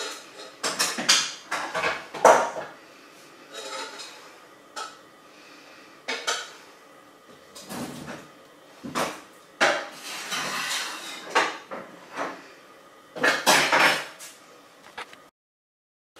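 Metal pots, pans and cutlery clatter and scrape in repeated bursts while cooked mince is drained for a Bolognese, with short pauses between the clanks and no talking.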